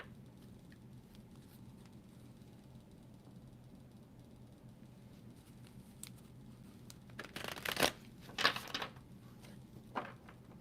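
Tarot cards being shuffled by hand, quiet at first, then several short crisp riffling bursts near the end against a faint low hum.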